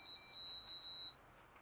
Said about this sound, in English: As you can hear, the alarm's gone off.